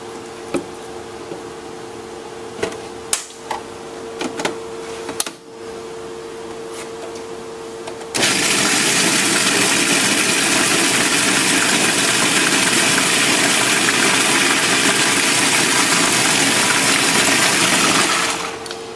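A food processor chops pesto sauce. After a few scattered knocks and handling clatter, the motor roars to a loud, continuous, even whir for about ten seconds, then stops.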